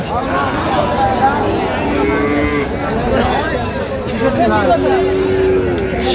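Cattle, including Sahiwal calves, low and moo among a crowd of chattering voices at a livestock market in Sylhet, long drawn-out calls rising above the steady babble of bargaining.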